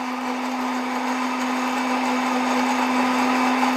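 Electric blender whirring steadily as it purees chopped grapes with garlic, a constant loud motor whine with no breaks and no talking.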